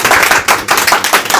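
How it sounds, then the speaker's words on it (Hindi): Students in a classroom applaud to welcome a speaker, a loud, close burst of dense group clapping in several surging waves over about a second and a half, with no talking. "इनके लिए स्वागत करते हैं तालियों के साथ"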